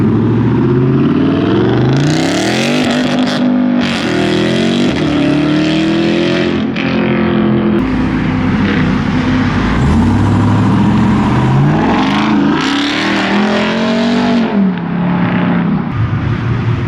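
Nissan GTR accelerating at a car meet, its engine loud and close, revving and rising in repeated sweeps over a constant roar with no talk.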